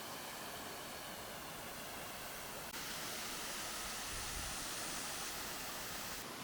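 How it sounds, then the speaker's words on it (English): Rushing waterfall at the top of a hill in Nice, France, a steady, dense hiss of falling water heard up close and alone, faint overall and unbroken for several seconds. "So straight ahead of me, you can probably hear it. There's a waterfall at the top of this hill."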